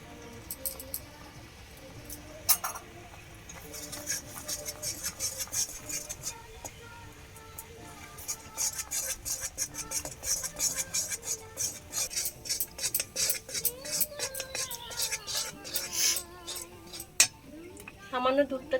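Stirring khoa kheer sweet in a cooking pan: a steady run of metal spoon clinks and scrapes against the pan, growing busier and sharper toward the end, close and moderately loud with faint background speech.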